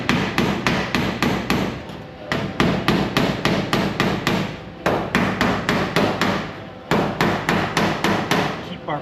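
Steel hammering on a welded rocker and quarter panel of a 1969 VW Bus, stretching the metal flat: loud, close, rapid metallic blows in steady runs of strikes broken by brief pauses.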